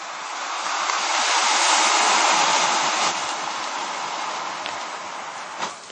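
About 1.5 pounds of thermite burns inside a thermitic box cutter against a steel beam, a loud, steady roaring hiss that holds for several seconds with a brief crackling pop near the end.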